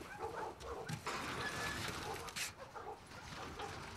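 A dog in The Last of Us Part 2 whimpers and gives short yips and barks amid soft background noise, close and moderately quiet, with a person's voice speaking over part of it.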